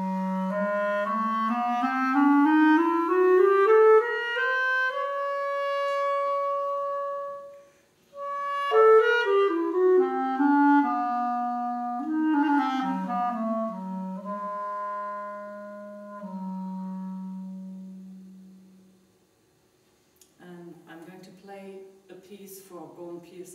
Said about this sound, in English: Clarinet solo.